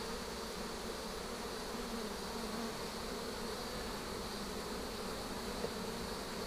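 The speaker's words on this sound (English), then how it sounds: "We'll call them robin bees." Bees buzz around a swarm box in a continuous, even drone of many insects, moderately close and steady without pauses.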